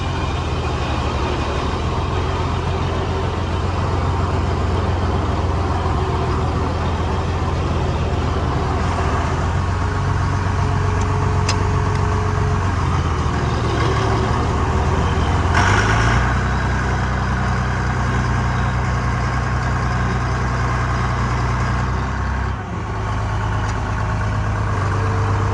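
Tractor engine idling steadily in a farm setting during planter repair work, a continuous low rumble with a heavy engine drone, close and loud throughout, briefly dipping near the end.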